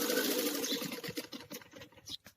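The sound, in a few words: sewing machine stitching a net blouse seam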